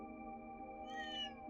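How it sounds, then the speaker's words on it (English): A cat in the video game Trails Through Daybreak 2 gives one short meow partway through over a steady tonal game music background. "Looks like some fat cat's approaching Etoile."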